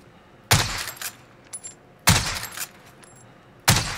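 MK2 rifle firing in the video game Warzone: three loud, sharp single shots spaced about one and a half seconds apart, each with a short echoing decay, plus faint smaller clicks and thuds between them.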